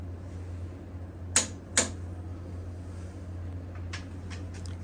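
Two sharp metallic clicks sound close together from a torque wrench on the cylinder head bolts of a 393 stroker engine, followed by a few fainter ratcheting ticks over a low steady hum.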